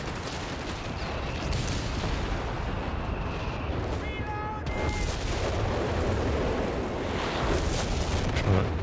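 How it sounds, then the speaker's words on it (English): Continuous artillery barrage in a 4v4 Company of Heroes 3 match, a dense roar of distant shell impacts and rumbling blasts rolling on without a break. "Trying to dodge all the artillery."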